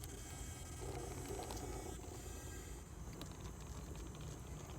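A Hobbywing Axe motor drives the gears of an RC crawler under throttle, giving a faint, continuous mechanical whir with ratcheting gear chatter at a steady level and no talking.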